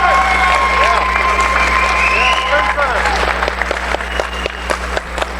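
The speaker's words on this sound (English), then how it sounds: "A round of applause for Mr." A boxing tournament crowd claps and cheers for a renowned trainer being introduced, a loud mix of whoops and voices over steady applause, with a low hum running underneath.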